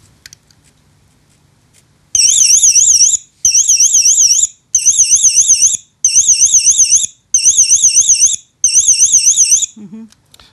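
A fire alarm device in test mode shrieks loudly in six long bursts of warbling high-pitched beeping, separated by short pauses, with a brief voice at the end.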